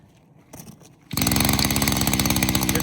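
A small string trimmer motor mounted on a homemade motorized scooter sputters, then catches and revs up into a loud, steady buzzing drone with a rapid pulsing beat, close by and with no talking.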